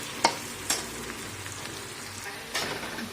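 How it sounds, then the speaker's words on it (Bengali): Onion frying in leftover oil in a home kitchen, a steady low sizzle with a few sharp stirring scrapes near the start and end, no voices. "ওই তেলেতেই পেঁয়াজটা দিয়ে দিচ্ছি"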